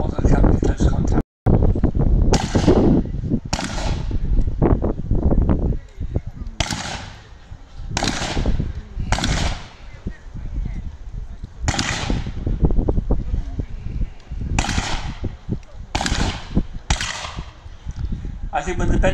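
Zulu War era rifles fire at an outdoor re-enactment display, a string of sharp, loud cracks going off one after another at uneven intervals, with people talking in between and wind buffeting the microphone.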